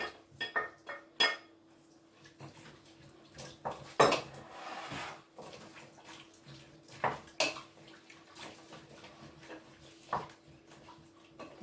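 Beef pieces clatter back into a cooking pot for Irish beef stew, with several sharp metallic knocks and scraping clinks of a utensil against the pot, loudest around the middle, with no talking.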